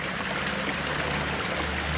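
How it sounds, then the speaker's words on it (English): Filtered water from a garden pond falls back down a waterfall, producing a steady, unbroken splashing rush that stays close and even throughout with no voices. "So the water returns back from the filters down my waterfall,"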